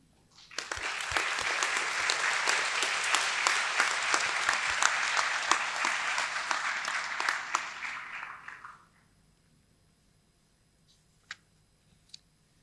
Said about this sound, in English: take the opportunity to show by applause your appreciation of what they've done for you